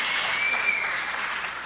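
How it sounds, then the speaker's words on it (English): A steady wash of audience applause at a justice teach-in gathering, dense continuous clapping with a faint whistle, even in loudness throughout the short stretch. "you should clap"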